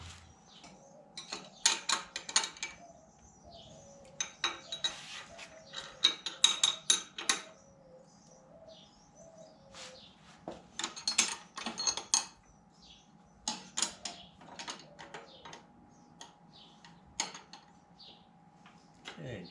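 A wrench ratchets in quick clicking bursts while loosening a 17 mm double jam nut at the bottom of an Africa Twin leading-link front shock, with close metallic ticks in repeated clusters and quiet pauses between them.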